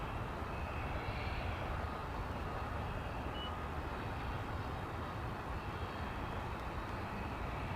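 A jet airliner taking off from a runway at DFW Airport, a broad, steady engine roar heard from a distance, holding even and fairly faint throughout with no voices.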